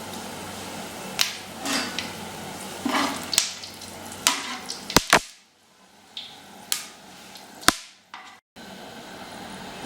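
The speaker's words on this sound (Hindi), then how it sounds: "घी जो है हमारा बढ़िया गर्म हो गया है। ये हमारे गरम मसाले हैं, गरम मसालों को हमने डाल दिया है।" Whole garam masala spices crackling in hot ghee, a soft sizzle broken by scattered sharp pops and spits at irregular intervals, fairly close and with no talk over it.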